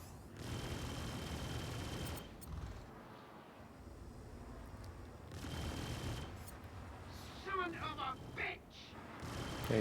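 Spaceship gunfire in the video game Star Citizen crackles in sustained bursts through a dense, noisy combat soundscape, with a brief sharper volley near the end while a person talks over it.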